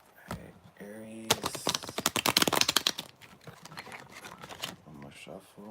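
Tarot cards are shuffled up close, a quick burst of crisp riffling flicks followed by scattered softer taps and slides, with a voice speaking briefly before and after.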